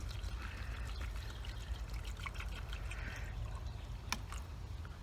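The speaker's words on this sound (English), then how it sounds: "I'm going to add water." Water trickles and pours steadily into a bowl of crushed mulberry leaves, a soft continuous liquid stream close by with no talking.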